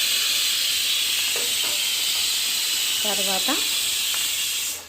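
Capsicum pieces sizzle in hot oil with a steady, loud hiss that runs the whole time, while a voice talks briefly over it.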